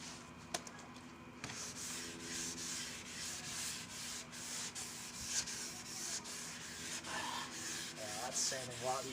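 Steady rubbing and scraping strokes of wet sanding on the soapy painted body of a 1970s Pontiac Trans Am repeat in a continuous rhythm, close by and fairly quiet, with no voices.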